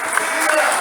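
A church congregation applauds during a worship service, giving a brief, steady wash of clapping with a voice talking over it.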